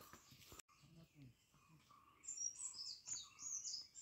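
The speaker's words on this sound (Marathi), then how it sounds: "पक्ष्यांचा व्यवस्थित आवाज आपणाला या ठिकाणी ऐकायला भेटत आहे" Birds call in the forest near Jaigad fort in Patan, Satara, with a short run of high, bright chirps in the second half. The calls are soft and distant over faint low murmurs.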